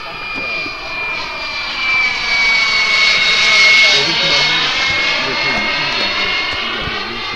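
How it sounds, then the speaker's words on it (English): A small jet aircraft passes overhead, its engine whine swelling to a peak midway and then fading slowly, heard outdoors from some distance with no talk over it. "See, there's a little jet."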